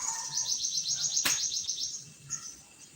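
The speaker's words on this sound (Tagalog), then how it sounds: "Ang daming ng ibon dito." Many birds chirp and trill together at a moderate distance, a busy overlapping chorus of rapid high calls with a sharp click partway through.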